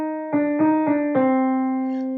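A piano plays an opening in four evenly spaced eighth notes. The last note rings on and fades, clear and alone.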